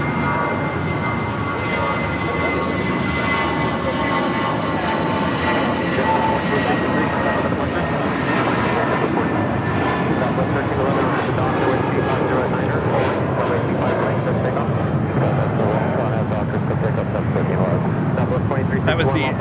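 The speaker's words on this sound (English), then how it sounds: "That was the JetBlue for Good livery, flight 1463, heading to Cabo in that A320." A JetBlue Airbus A320 in the JetBlue for Good livery taking off from LAX, bound for Cabo, gives a loud, sustained jet engine roar that holds steady across the whole stretch without voices.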